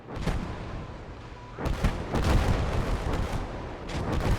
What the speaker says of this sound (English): We've got a Calliope barrage going into the center